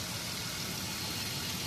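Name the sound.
running engine with suction at the oil filler cap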